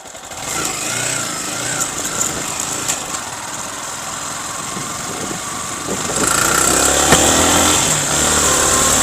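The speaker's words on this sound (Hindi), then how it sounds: "देखिए कचराहट का साउंड आ रहा है।" A Yamaha R15 V3 motorcycle with an engine ticking fault runs on a test drive, its high-pitched engine note droning steadily with wind and road noise, growing louder as it accelerates partway through.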